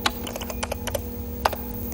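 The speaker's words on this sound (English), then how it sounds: "so I type get Telecom Gold" A command typed on a 1987 home computer keyboard: quick, close key clicks in an uneven rhythm over a steady electrical hum, with a couple of louder strikes.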